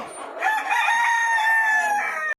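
A rooster on a village poultry farm lets out one loud, drawn-out crow lasting about two seconds, close and clear, with faint background fowl.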